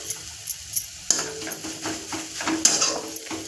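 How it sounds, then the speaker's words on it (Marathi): Grated bottle gourd for halwa is stirred and roasted in a pan with cardamom powder, with repeated close spoon scrapes and metallic clinks over a light sizzle, fairly loud and busy. "परतून घेऊया. मिक्स करूया वेलची पावडर."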